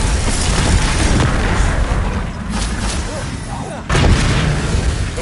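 Bombarda blasting spells in the wizarding combat game Hogwarts Legacy produce loud, dense booming explosions that run continuously, with a sharp new blast near the end.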